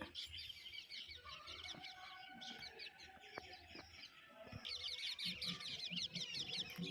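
Birds chirp and tweet in repeated bright bursts around a house on a hillside, mixed with chicken-like clucking and faint background activity. The calls are fairly quiet, and the chatter grows busier toward the end.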